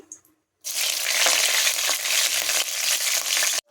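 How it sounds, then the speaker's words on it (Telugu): Green chillies hit hot oil with frying urad dal for aloo fry, a sudden loud burst of crackling sizzle that holds steady for about three seconds, then cuts off. "మినప్పప్పు ఫ్రై అయిన తర్వాత పచ్చిమిర్చి వేయండి"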